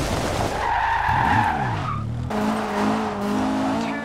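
Tires skid and squeal as a car drifts in Forza Horizon 2, with a Lotus Esprit's engine revving and shifting pitch through the slide, loud and close, with no talking.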